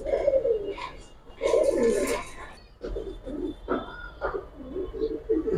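Pigeons coo in repeated low, throaty bursts, close by, with a short chirp mixed in and a voice talking softly in the background.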